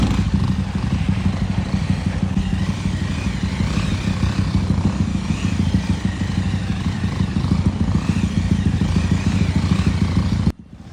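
A motorcycle that has just had its oil changed and a loose clutch tightened roars loudly and steadily close by, revving hard and riding for about ten seconds before cutting off abruptly at the end.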